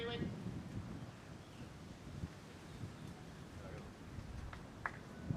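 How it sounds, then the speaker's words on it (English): Strong wind gusts buffet the microphone at an outdoor padel match, a continuous rough roar with slight swells and no clear voices. "Some of the biggest wind gusts we've seen."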